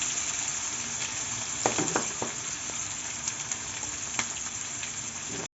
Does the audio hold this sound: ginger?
yes